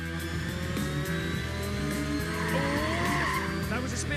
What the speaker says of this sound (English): That was Nathan Clifford going for a spin just ahead of Marcus Luzio going to 30